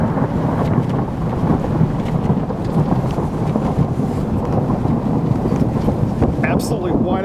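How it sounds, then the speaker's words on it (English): A blizzard near Jonesboro, Arkansas, on Christmas Day 2012, with strong winds blowing a vehicle off a county road, produces a constant loud roar of wind noise and rumbling thunder, with no clear speech. "Intense thunder blizzard underway."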